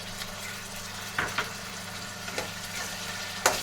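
Two sprigs of curry leaves hit hot oil while frying ivy gourd, giving a steady close sizzle with a few sharp crackling pops and spatters scattered through it, no voices.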